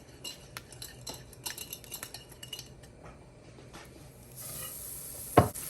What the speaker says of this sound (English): So you just want to stir.